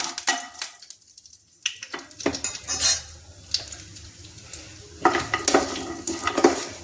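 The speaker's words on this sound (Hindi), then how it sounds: "गैस जला देते और इन बड़ियों को भून देते हैं।" Sun-dried lentil badi are roasted in a pan over a gas flame, with a faint sizzle under repeated scraping, clattering spoon-on-pan stirs and metallic clinks. The strokes come in irregular bursts with short quiet gaps.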